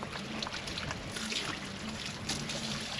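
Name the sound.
water being poured to fill and prime a lake sprinkler pump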